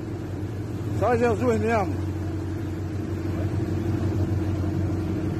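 A fishing boat's engine drones steadily out at sea, a low constant rumble with a voice briefly speaking over it near the start.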